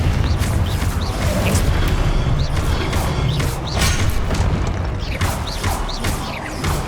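Explosive Confringo spell bursts and combat crashes in the game Hogwarts Legacy, continuous loud booms and thuds layered with rattling mechanical noise throughout.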